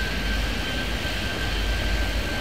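A jet airliner lands on a runway in the airport game Airport Madness 3D, heard as a steady, loud engine roar with a faint high whine and no talk.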